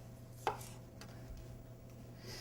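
A knife slices a scallion thinly on the diagonal against a cutting board, one sharp chop followed by a few fainter cuts under a low steady hum.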